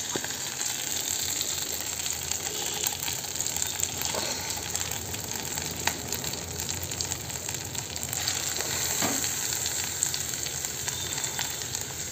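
Banana peel paste with fennel and ginger paste sizzles steadily in a pan, a continuous close frying hiss with faint occasional scrapes and no voices.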